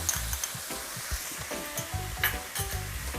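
Mussels stir-fried with roasted chili paste sizzle steadily in a hot pan, with repeated scraping and stirring thumps of a utensil through the whole short stretch, close and alone with no talk.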